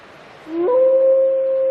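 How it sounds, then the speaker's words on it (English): A female black wolf in estrus in the wild lets out a single long howl that rises, then holds a steady clear tone, loud and close, with no other sounds. "Her howls identify her as an available female."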